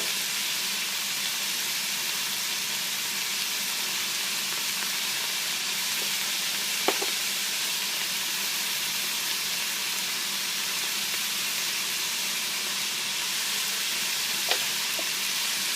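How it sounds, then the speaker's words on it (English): Chili ingredients with oregano, cumin and coriander get a light sauté, a steady bright hiss of sizzling broken by a couple of brief utensil clinks, close and continuous with no speech. "And we're going to do a light saute."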